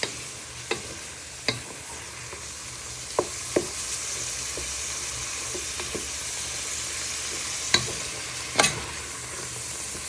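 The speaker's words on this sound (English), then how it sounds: "We'll give that a little bit of a stir, and then we add in our spices and seasoning." Tinned tomatoes, sweet corn and mixed beans sizzle gently in a pan under a constant soft frying hiss, with occasional sharp spoon taps and scrapes against the pan as they are stirred.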